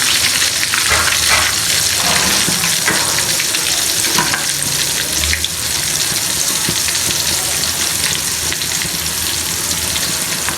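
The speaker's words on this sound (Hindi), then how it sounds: "अब इसको अच्छी तरह से फिर फ्राई कर देंगे ताकि क्रिस्पी बन जाए" Flour-coated potato tornadoes sizzle steadily in hot oil over high heat, a loud, continuous crackling fry with occasional stirring scrapes, and no voices.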